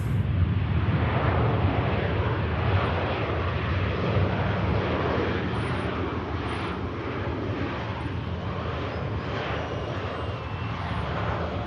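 A TUI airliner departing Manchester Airport gives a loud, continuous broadband jet roar with a deep rumble that holds steady throughout, no voices over it.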